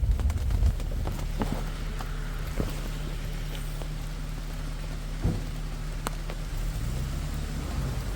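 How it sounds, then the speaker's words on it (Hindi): Continuous rain falls during a leopard safari in Rajaji Tiger Reserve, a steady close hiss with scattered drips, a few bird calls and occasional knocks. "तो बरसात लगातार है"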